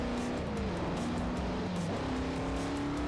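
Car engine in the racing game Forza Motorsport 4 with manual transmission, a continuous loud drone whose pitch wavers and drops as the revs change, alone without talk.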